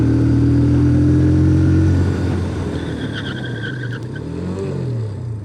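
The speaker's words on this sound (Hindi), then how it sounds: "चलिए सबसे पहले फ्रंट ब्रेक को अप्लाई करके देख लेते हैं।" TVS Apache RTR 160 2V motorcycle braking hard on the front brake from speed, engine drone dropping sharply as it slows, followed by a low falling idle, loud and close with no talking.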